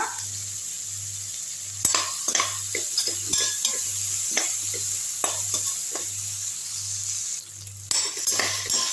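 Maggi noodle ingredients sautéed with mint leaves in a pan, with a steady sizzle and frequent scraping, clanking stirs of a spoon against the metal and a constant low hum underneath, no speech.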